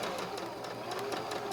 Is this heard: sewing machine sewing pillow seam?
yes